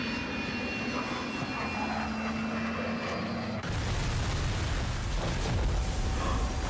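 Airplane engines roar loudly overhead in a scene from the film Leave the World Behind. The steady drone cuts abruptly into a louder, rumbling, crashing wash of noise partway through.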